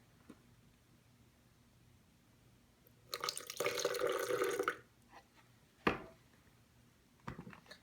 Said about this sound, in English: And then you want to add a little bit of the water.